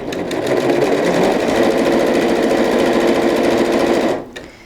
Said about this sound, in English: We're going to sew all the way down here until we hit the end of our curve.